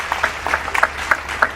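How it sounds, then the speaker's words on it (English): An audience at an awards ceremony applauds steadily, a full room of clapping with rhythmic peaks from individual claps, fairly loud and without talk. "Big round of applause."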